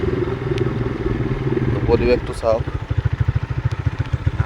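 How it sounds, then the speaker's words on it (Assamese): A motorcycle ridden through heavy rain putters close by, its engine thumping in a steady pulse under a voice. "জিকি বাইক চলাই আছোঁ"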